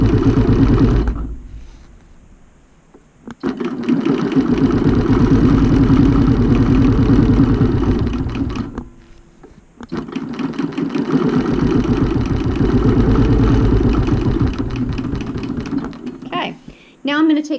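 A BERNINA Q 24 longarm quilting machine stitching in the ditch, a fast even mechanical chatter running in long bursts separated by two brief stops, close and fairly loud.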